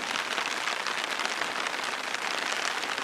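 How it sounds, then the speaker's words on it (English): Steady rain falling in an Alaskan canyon by an old mining trail, a dense, even hiss of drops on surfaces, loud and continuous with no breaks. "Pretty good rain."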